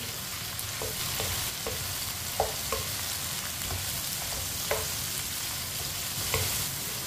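Chopped tomatoes and green chillies cook in a pan for aloo gosht, giving a dense even sizzle close up, with light stirring taps now and then.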